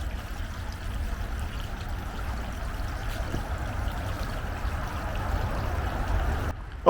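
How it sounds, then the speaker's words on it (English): Bubbling and trickling water from a leaking ballast tank in a steampunk model submarine, a steady close gurgle running without pause for several seconds. "There's bubbles coming from somewhere."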